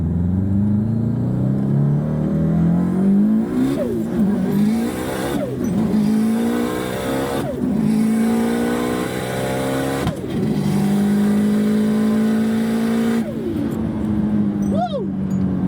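A race car launches from a 40 km/h rolling start at a roll race, its engine roaring loud and close as it climbs through several gears, each shift a brief dip before the pitch rises again.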